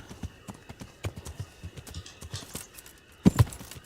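Horse hooves clip-clopping in the medieval video game Kingdom Come: Deliverance, a steady rhythmic trot of close, crisp hoofbeats that ends with a couple of louder thuds, no talk over it.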